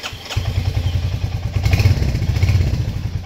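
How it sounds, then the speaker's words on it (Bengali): A motorcycle parked overnight starts up in neutral, its engine catching into a steady, close, low rumbling idle with some clatter, running on without any voices. "বাইকটাকে এখন আপাতত একটা স্টার্ট দিয়ে দেওয়া যাক"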